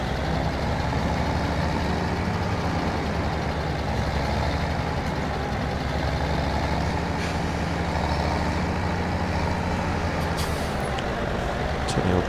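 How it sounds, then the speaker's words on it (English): Tractor engine in Farming Simulator 2017 on a sugar beet sowing field, a steady low diesel drone idling and running continuously with a faint hiss on top, moderately quiet. "This is the tractor I need."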